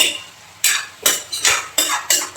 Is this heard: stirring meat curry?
yes